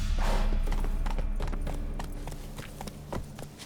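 Rapid hoofbeats of a galloping horse in The Witcher 3 ring out close and loud, then gradually fade as the horse runs off, with scattered clops trailing away at the end.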